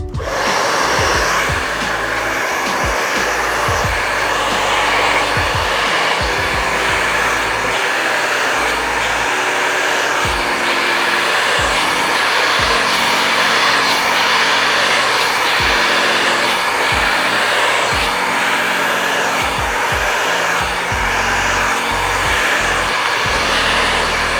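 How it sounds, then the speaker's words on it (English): A Wahl barber hair dryer on high speed roars steadily and loudly throughout, a constant close-up whoosh with faint low bumps and rustles underneath. "your blow dryer is going to follow right behind"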